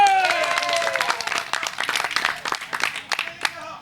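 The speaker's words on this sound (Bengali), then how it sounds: "তালি হবে।" Crowd at the Gabtoli cattle market clapping around a bull, scattered sharp claps gathering into a brief patter, with a voice talking at the start.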